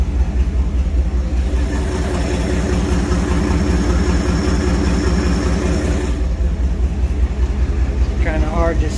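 A 1954 GMC COE truck engine runs steadily in reverse gear, a loud, continuous low rumble that drops off near the end as a brief voice cuts in.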